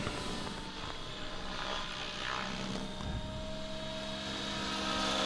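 An Align T-REX 700E PRO DFC flybarless RC helicopter flying back and forth over a field, its rotor whine and buzz rising and falling steadily at some distance.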